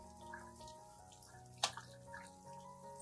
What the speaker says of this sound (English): rinse the entire plant thoroughly with clean water